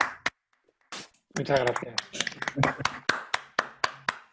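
Hand clapping from a few people over microphones after an online seminar talk, starting with a brief spoken thanks and then scattered, uneven claps mixed with voices before settling into isolated sharp claps.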